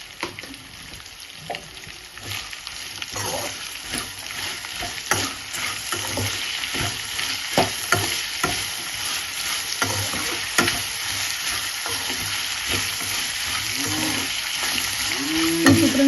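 Onions frying in a hot pan for chitranna, a steady close sizzle throughout with occasional stirring scrapes, gradually growing a little louder.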